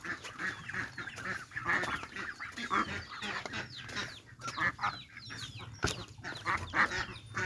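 A flock of ducks quacks and honks continuously nearby at feeding time, many birds calling over one another in a busy, overlapping chorus.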